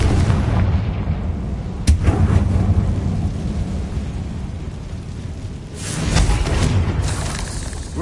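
The Confringo curse explodes in Hogwarts Legacy with deep rumbling booms and crackling blasts, loud and close, the roar swelling and fading twice over a dense low background.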